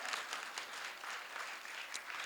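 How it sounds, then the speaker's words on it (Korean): Faint, somewhat distant applause from students at a lecture rises and falls in loose bursts of many hands clapping, with no voices over it. "박수 한번 치시고."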